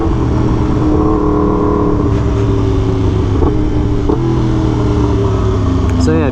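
A Yamaha R1M motorcycle engine drones steadily up close, with quick rev blips as the auto-blipper quick shifter drops down through the gears without the clutch.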